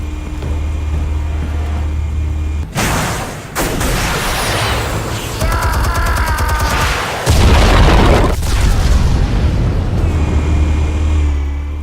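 Explosives going off in Batman: The Telltale Series, heavy booming blasts and rumbling debris that swell and cut away in bursts, with a metallic ringing passage in the middle, loud and close, no speech.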